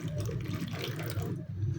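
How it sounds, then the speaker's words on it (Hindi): Tamarind water poured into a fish marinade, a close, continuous trickling splash lasting under two seconds. "उसके बजाय खटास के लिए मैं शामिल कर दूँगी यहाँ पे इमली का पानी,"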